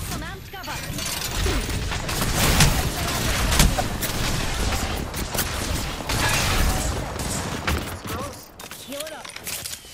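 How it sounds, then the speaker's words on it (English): Enemy flunkers fire on the player in a sci-fi shooter amid a dense, chaotic battle mix of scattered shots, impacts and mechanical clatter, with a voice talking over it throughout. "There's some flunkers shooting at me."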